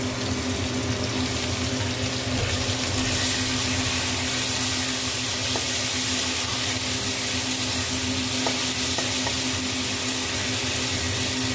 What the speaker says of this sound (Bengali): এবার যে আদা রসুনের পেস্টটা করেছিলাম ওটা দিয়ে দিলাম।